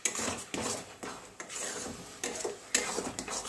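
Coconut sandesh mixture being stirred continuously in a pan over high heat, a spoon scraping and rubbing against the metal in repeated strokes every half second or so, close and steady.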